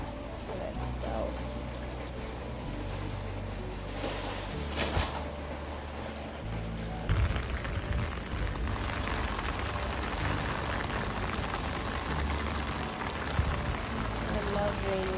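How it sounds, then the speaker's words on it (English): Steady rain falls on a Tokyo morning, a constant hiss with light patter throughout, while a person talks over it and occasional thumps and movement noises break in. "So today it's raining here in Tokyo"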